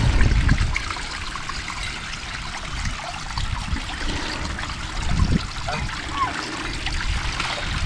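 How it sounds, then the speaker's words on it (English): Water gushing and splashing from a pump draining a backyard goose pond, a steady churning flow close by with a couple of louder surges. "So it is going to pump. That's a good thing. Lots of water coming out."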